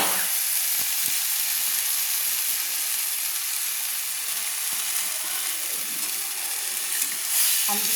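Fried potatoes tipped into sizzling spice mix in a pan for ghugni and stirred, giving a loud steady hiss of frying with scraping stirs and brief clatters throughout, close up, with no voices.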